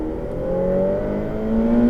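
A Ferrari F8 Tributo accelerates on the Le Mans circuit, its engine note rising steadily in pitch through the gear, loud and close from inside the car, with no speech.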